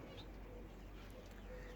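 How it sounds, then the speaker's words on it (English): Diamond doves perched on a feeder in the sunshine give soft, low cooing calls, faint and somewhat distant against a steady outdoor background. "So the diamond doves are just here"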